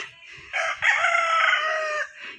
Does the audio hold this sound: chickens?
yes